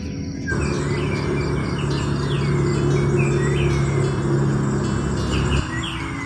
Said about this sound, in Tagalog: Tingnan, maririnig niyo yung ibon.